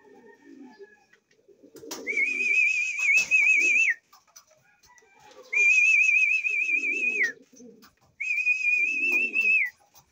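Kept pigeons give three long whistling calls with low cooing murmurs between them, close and clear against a quiet background.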